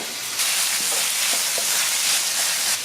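Garlic sizzles hard in a hot pan for a shakshuka, a loud, steady frying hiss starting abruptly and holding close and constant with no talking.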